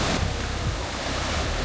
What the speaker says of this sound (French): Les vagues là, elles sont énervées de fou.